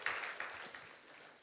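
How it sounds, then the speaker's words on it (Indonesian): A church congregation gives a fading round of applause during a worship service, soft, moderately distant clapping that tapers off within a moment. "kita berikan tepuk tangan yang meriah buat Tuhan Yesus"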